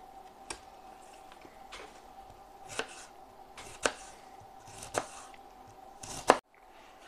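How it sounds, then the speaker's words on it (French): Red cabbage being finely chopped with a knife on a board, its core already removed, giving sharp separate thuds in an irregular rhythm, close and clear with quiet gaps between strokes. "Et on va hacher finement le chou."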